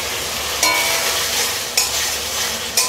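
Spice masala sizzles in a pan with a little water while a spoon stirs it, the steady frying hiss broken by three sharp scraping strokes at even intervals.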